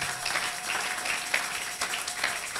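A church congregation applauding together, a steady wash of many hands clapping for the whole stretch, fairly loud and even with no pauses.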